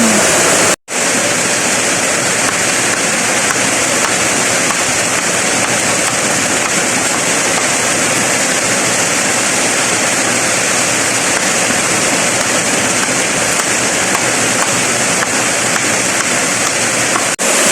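Heavy rain pours down at night in a steady, loud, unbroken roar with no voices, filling the whole stretch apart from one brief cut near the start.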